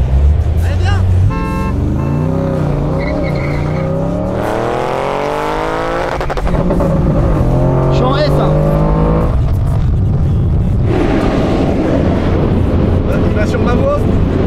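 A BMW M5 or Audi RS6 heard from inside the car as the engine accelerates, its pitch climbing and then dropping at each gear shift while people talk over it.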